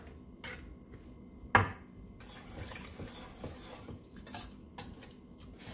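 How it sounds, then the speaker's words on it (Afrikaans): A wire whisk stirring a cream mixture and chicken in a metal pot for chicken à la king, giving quiet scraping and swishing with one sharp clank against the pot early on. "En dan gaan ek dit aanhoudend roer, sommer met my draadklitser, tot dit kook"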